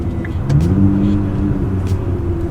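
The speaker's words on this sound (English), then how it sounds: "doing a few downshifts, it's got a nice deep tone to it" A Nissan GT-R Black Edition's stock exhaust rumbles deep and loud up close, its engine note dipping and rising through a couple of downshifts.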